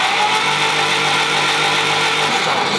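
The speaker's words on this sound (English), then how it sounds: "she's gonna run the starter on the Jeep" A 1946 Willys CJ2A Jeep being cranked on its starter after five years off the road, a loud steady churning drone close up with no talk over it.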